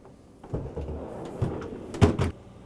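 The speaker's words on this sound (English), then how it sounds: "So close the door, wait 24 hours" A refrigerator door swinging shut, heard as a few soft handling knocks followed by a firmer closing thud near the end, close by and fairly quiet with no talking.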